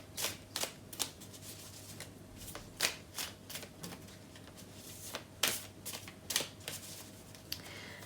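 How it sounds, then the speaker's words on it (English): An Animal Spirit oracle card deck is shuffled by hand, with repeated crisp riffles and flutters of cards at an irregular rhythm, close and fairly quiet, with no talking. "I'm going to pull a card from the Animal Spirit deck."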